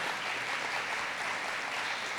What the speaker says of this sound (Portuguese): Você pode aplaudir a palavra de Deus,